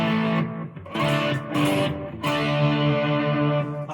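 Electric guitar played through a Soundlad Scran pedal set near noon on every knob with a touch of reverb and delay, sustained harmonic chords ringing loud and close with short breaks between strums.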